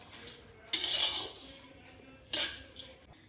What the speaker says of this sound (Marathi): मी याला 5 मिनिटं मिक्स करणार आहे गॅसवरच।